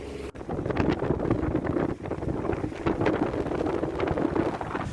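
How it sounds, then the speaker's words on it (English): Squall wind buffets a sailboat at sea along the Dominican Republic coast, a loud, steady roar with gusting rumble filling the whole stretch. "One of the squalls has finally hit us."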